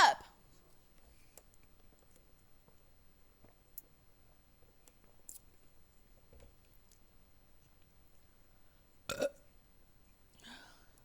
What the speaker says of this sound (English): Oops, I burped.